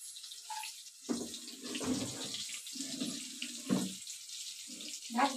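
Tap water runs steadily into a sink while a plate stained with red vegetable curry is washed, with splashing that rises and falls near and clear and short bursts of talk over it.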